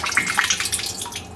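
Water from a reverse osmosis brewing water setup running steadily into a container with a float valve, a soft continuous splashing trickle with no voices.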